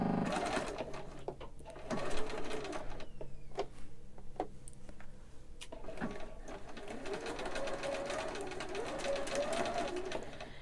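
A sewing machine stitches a face mask seam in bursts, whirring and rattling close up, with short pauses and small clicks between runs of stitching.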